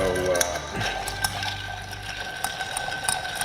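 A spoon stirs a vodka and cacao liqueur cocktail over ice, giving soft clinks and rattles of ice against glass under a steady background hum.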